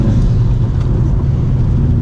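A stock 2012 Subaru WRX STI is driven hard on a rally stage, its engine giving a loud, steady, close rumbling drone throughout with no clear pauses.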